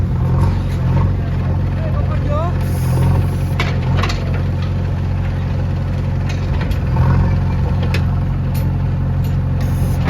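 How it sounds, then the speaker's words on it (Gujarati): A loaded tractor carrying groundnut harvest pulls away on a farm, its diesel engine a continuous low rumble with a steady throbbing beat, loud and near throughout, with a voice faintly over it. "ટ્રેક્ટર હવે જાય છે."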